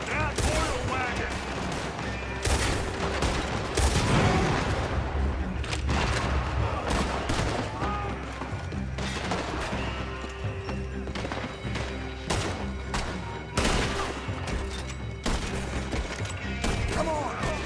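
Dense, continuous gunfire with rapid shots and booms, a chaotic firefight in Red Dead Redemption 2 with shouting voices mixed in.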